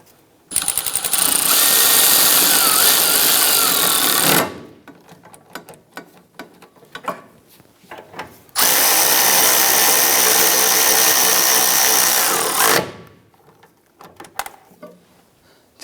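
A power tool snugs down the bolts on the rear wheel hub assembly of a 2008-2013 Nissan Rogue. It gives two loud, close, sustained whirring bursts of about four seconds each, with quieter workshop clatter in between and no talking.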